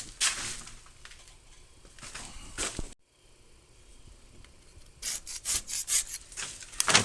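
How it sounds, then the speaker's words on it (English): Scraping dried paint stripper off a 1940 radial arm drill: rough, rasping strokes of a scraper on layered paint, in bursts with a short pause, then a run of quick repeated scrapes, close and fairly loud. "Some of it I can scrape off, but most of it is not coming off."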